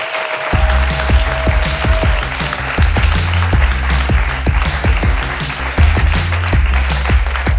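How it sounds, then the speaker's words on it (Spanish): Studio audience applauding for the reporter Paula Blas on a Spanish talk show, a dense, steady burst of clapping with rhythmic sharper claps standing out, close and loud throughout. "dadle un aplauso muy grande a Paula Blas"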